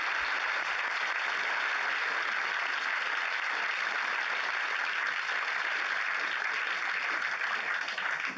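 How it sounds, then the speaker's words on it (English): Studio audience at a 1980 television variety show breaking into sustained applause, a dense, even wash of clapping that stays loud and steady throughout, with no one speaking over it. "You may appreciate that applause, but I don't."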